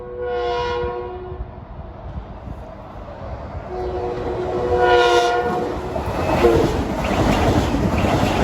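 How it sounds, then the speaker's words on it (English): LIRR train 1258, New York to Hicksville, passing Mineola station at evening rush hour: two loud horn blasts, the second longer, over the rising rumble and rail noise of the train flying by close. "Train 1258 from New York to Hicksville."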